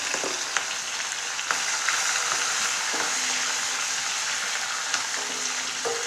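Green chilli, crushed garlic and ginger frying in a pan for a prawn mezhukkupuratti, a steady close sizzle with occasional clinks and scrapes of stirring.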